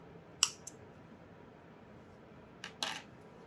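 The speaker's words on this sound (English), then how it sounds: "I can grab my scissors and cut the wasting knot off" Scissors snip a waste knot off embroidery thread in a quiet room: a couple of faint, crisp metallic snips early, then two more closer together near the end.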